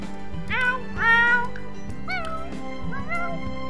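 A cat meows in The Sims video game, four distinct plaintive meows spaced across the clip over a low background hum.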